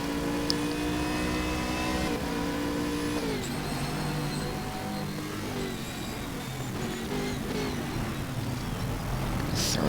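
A Bentley GT3 race car engine in Stock Car Extreme at the Red Bull Ring snarls at high revs, its harmonic tone dropping on downshifts and climbing again under acceleration, loud and continuous with no voices.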